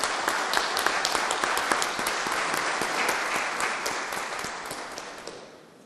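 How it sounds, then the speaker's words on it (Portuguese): Dense applause from an audience at a public hearing of the Joinville municipal truth commission, steady and sustained, then fading out over the last second or so. "eu gostaria de conclamar a todos aqui uma salva de palmas"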